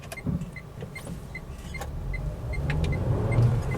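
Inside a Renault Duster driving through the city with the air conditioning on, a steady road and engine rumble is heard, with a soft repeating electronic chime ticking over it.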